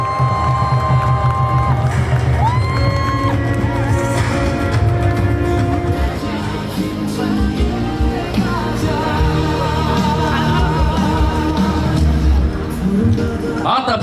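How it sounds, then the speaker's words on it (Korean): A crowd cheers and claps at an outdoor ceremony declaring the permanent shutdown of the Hanbit Unit 1 nuclear power plant in Yeonggwang. The dense, loud cheering holds steady throughout, mixed with tonal music. "큰 박수로 모시겠습니다."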